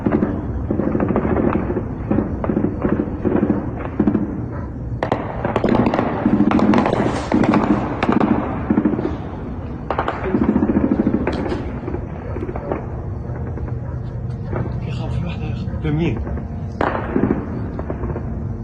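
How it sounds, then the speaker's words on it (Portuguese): Intense gunfire rattles continuously as tanks enter Rafah, with dense bursts of rapid cracks and thumping shots at middle distance, loudness surging and easing across the stretch with no talking. "dá para ver que é um tiroteio bastante intenso"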